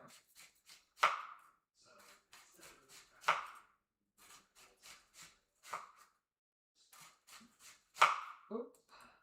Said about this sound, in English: Chopping the onion.